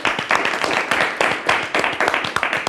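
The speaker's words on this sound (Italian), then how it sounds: "un applauso anche a voi" Dense clapping from an audience for students from an aerospace department and Skyward, steady and fairly loud throughout with no voices over it.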